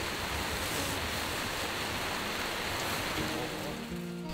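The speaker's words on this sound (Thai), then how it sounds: "ฝนตกนะฮะยังไม่หยุดเลยนะครับ แต่ชุ่มฉ่ำนะได้ยินเสียงฝนไหมครับ" Heavy morning rain pours down steadily at a campsite, a dense continuous hiss of drops on the tent and surroundings, close and unbroken throughout, with a faint low tone near the end and no speech.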